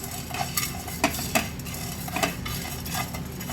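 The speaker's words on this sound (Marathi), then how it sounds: "आपण हे सर्व मसाले एकत्र टाकूया आणि थोडेसे परतवून घेऊया" Whole spices dry-roasted without oil in a hot pan for a village-style black chicken curry, stirred with a utensil that scrapes and clinks against the metal several times over a low, steady background.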